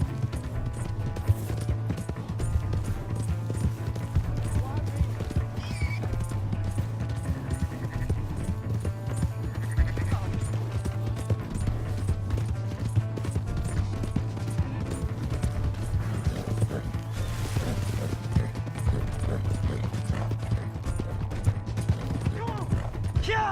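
Horse galloping in Red Dead Redemption 2, a fast steady clip-clop of hooves running continuously under game ambience, with voices speaking and shouting over it.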